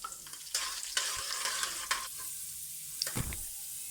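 Garlic, cumin seeds and whole black peppercorns fry gently in a pan, giving a soft, quiet sizzle broken by several scraping spoon strokes, close and with no voices.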